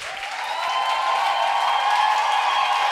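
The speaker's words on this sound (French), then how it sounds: "Lève-toi et acclame le Père ce matin." A church congregation at a Sunday service breaks into loud, continuous applause, a dense wash of clapping from many hands that swells slightly and holds throughout.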